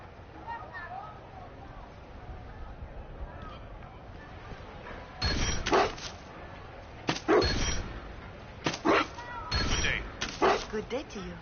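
A dog barking in the video game Dragon Age Inquisition, several sharp barks in bursts over the second half, preceded by talk and clanging sounds.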